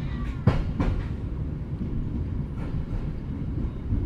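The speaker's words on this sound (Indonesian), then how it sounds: "Sekarang kereta Tegal Bahari lagi melintas di sekitar Depo Cipinang ya" Tegal Bahari passenger train rolling past near Cipinang depot: a steady heavy rumble with wheel clacks and a few sharp rail clicks near the start, continuous and fairly close throughout.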